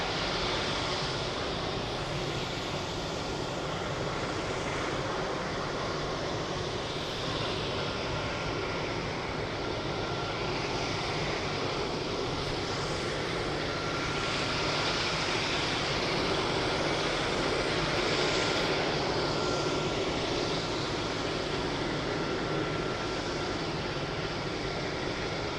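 EasyJet airliner lined up on the runway at Birmingham Airport, a continuous broad roar of jet engines at a distance, steady and unbroken throughout with gentle swells in intensity.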